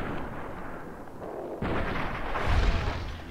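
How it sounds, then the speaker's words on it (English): Gunfire in Fallout New Vegas, a few muffled shots fired at an enemy during combat, with a heavier low thump near the end over steady game ambience. "Shoot this guy a couple times."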